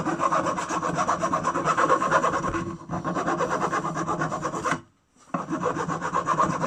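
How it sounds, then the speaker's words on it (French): A plastic drain plug is filed by hand, rasping steadily back and forth in continuous loud strokes, with a short pause near three seconds and a longer silent gap just before the end. "Alors déjà, faut limer. Allez, je lime avec la main gauche."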